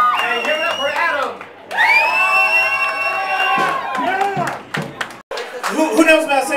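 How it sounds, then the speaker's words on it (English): A gig crowd cheers and whoops with scattered clapping, close and loud, while voices shout excitedly over the noise in bursts. "And give it up for Adam!"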